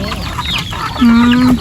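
Chickens cluck and squawk close by, a few short calls followed by a longer drawn-out tone, with faint background noise.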